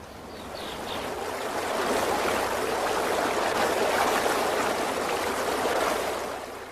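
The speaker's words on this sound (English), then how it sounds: "When it flows, it follows the contour of the stream's bottom and banks." A stream of running water flows steadily with a broad, continuous rushing and babbling. It swells slightly after the start and stays even throughout, alone and fairly close.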